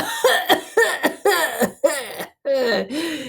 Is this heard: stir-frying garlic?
no